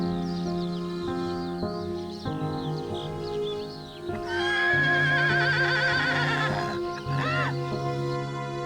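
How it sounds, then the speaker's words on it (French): A horse neighs loudly in a long, wavering whinny with a second shorter whinny after, heard close and clear over a sustained musical background. "Il veut se débarrasser des chevaux."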